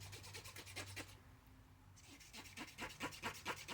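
A cotton swab soaked in contact cleaner scrubs the pins of a Sega cartridge, a close, faint run of quick rhythmic rubbing strokes that pauses briefly before resuming.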